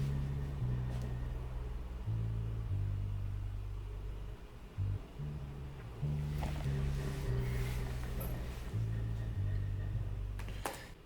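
A simple deep bass one-shot sample in an FL Studio beat steps through low sustained notes in a steady looping pattern, with faint clicks and noisy texture above.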